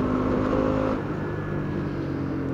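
Bajaj Dominar 200 2025 motorcycle accelerating hard on a rough stone-paved road, a steady close engine note rising in pitch, with no voices.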